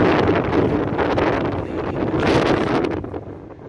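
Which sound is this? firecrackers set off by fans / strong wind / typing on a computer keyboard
strong wind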